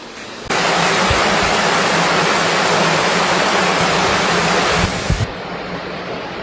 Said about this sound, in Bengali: চলে আসলাম আন্দারমানিক ঝর্ণায়